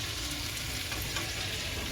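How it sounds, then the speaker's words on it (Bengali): Constant dense sizzle of vegetables frying in oil for khichuri, even and unbroken throughout, fairly close with no voices. "এখন খিচুড়ি হবে বলে সবজিগুলো ভাজা হচ্ছে"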